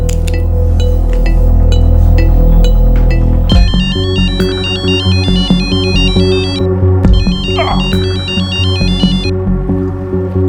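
A mobile phone ringtone playing in a crime drama scene, a loud repeating electronic melody of bright chiming tones in looping phrases, starting abruptly and pausing briefly before repeating.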